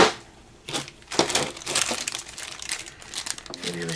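A plastic quart-size bag full of baubles crinkles and rustles up close in a string of crisp, irregular bursts.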